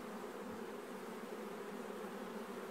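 Honeybees buzz around an open hive during a beekeeping inspection of top bars and queen cells, a steady, even drone that stays faint and continuous with no talking.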